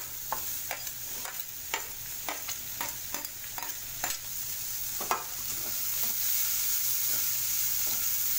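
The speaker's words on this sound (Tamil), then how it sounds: "எல்லாத்தையும் ஆட் பண்ணிட்டு கொஞ்சம் ப்ரௌனிஷ் ஆகிற வரைக்கும் வதக்கிக்கலாம்." Green chilies and onions sautéing in a pan, a steady close sizzle of frying with repeated sharp clinks and scrapes of a spoon stirring, no voices.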